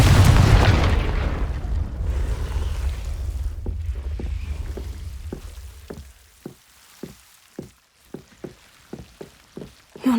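Confringo blasting spell from the Hogwarts Legacy video game: a loud, booming blast with a long rumbling tail opens the clip, followed by a row of sharp, evenly spaced knocks.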